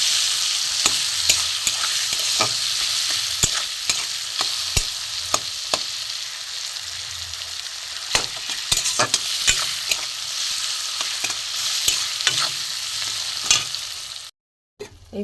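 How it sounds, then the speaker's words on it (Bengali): A spice paste of cumin powder, salt and tomato sizzles steadily in a hot pan for khichuri, with repeated scraping strokes of a spoon stirring it throughout, loud and close with no voices. "এই মশলাটা কষেছি"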